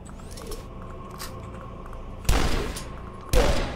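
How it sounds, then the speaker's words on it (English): An assault rifle fires at cultists in the video game DUSK, with two loud, abrupt bursts of gunfire breaking a quiet, humming game ambience. "we'll go ahead and assault rifle the cultists"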